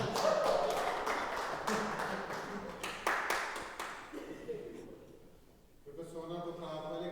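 Sparse clapping from a small church congregation sounds for Sandeep, with several loud claps in the first few seconds that then fade, followed by someone speaking.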